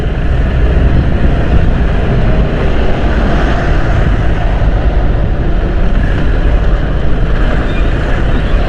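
Riding a motorcycle along a busy bypass road with many trucks, a loud constant roar of engine, traffic and wind rushing past the microphone, with no pauses.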